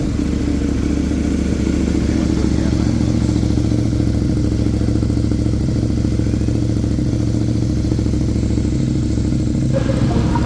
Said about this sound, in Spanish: les voy a mostrar el sonido de la motocicleta KTM 690